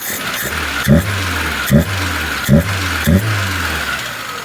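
A carburetted engine runs with the choke on, idling steadily up close with four short regular revs or surges spaced about a second apart.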